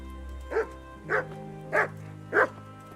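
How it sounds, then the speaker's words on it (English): A dog in the video game Kingdom Come: Deliverance barks four times at an even pace, each bark clear and fairly close over a low steady background hum. "he's barking at me because I don't have the thing"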